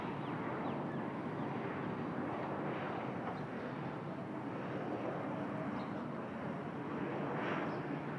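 A jet airliner rolls down runway 20 left at Bangkok airport on its takeoff run, a steady loud roar of engines sustained throughout with no pauses.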